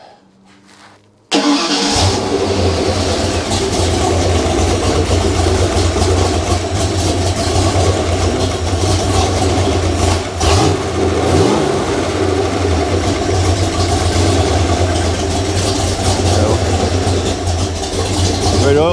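A Small-block Ford 302 (SBF) project engine fires on its first start after a short quiet moment, then runs loud and steady, close up, with throttle blips and revving throughout.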